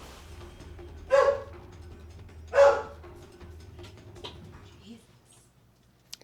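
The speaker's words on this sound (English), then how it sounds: "Dog is barking, sorry." A dog barks twice in two loud, separate bursts about a second and a half apart, fairly close, over a steady low background hum.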